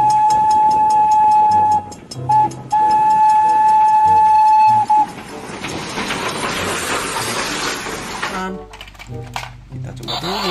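A toy Thomas steam train gives a steady whistle tone that stops and restarts, followed by hissing steam-like noise and clattering, with someone speaking over and between the sounds.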